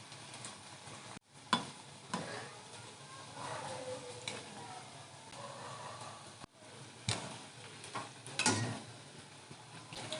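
Vegetable chops frying in hot oil give off a steady, close hiss studded with sharp crackles and pops. The sound briefly drops out twice, and no one speaks.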